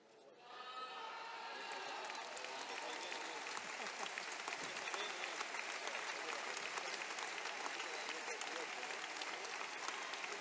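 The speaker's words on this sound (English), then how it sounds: "Round of applause here in the arena for Ivanov and Sozanov." An arena crowd at a badminton European championship breaks into applause, building quickly into a dense, sustained roar of clapping with some cheering mixed in.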